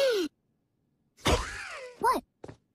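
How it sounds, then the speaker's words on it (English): A cartoon character gives a long, drawn-out groaning yawn with a falling pitch, followed by a short sigh-like sound and a brief tail, all close and clear. "You yawn, girl!"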